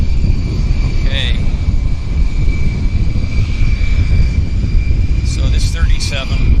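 An Air Canada Boeing 737 bound for Edmonton roars steadily at Vancouver airport, a loud continuous jet engine rumble with a high whine running throughout, brief chirps near the start and end.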